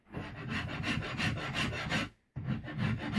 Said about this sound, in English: the most rasping I'll do is with this guy on the fine side